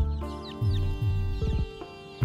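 A free-range chicken clucks in a close, loud series of short throaty calls, with a brief squawk and clucks coming in a few quick bursts.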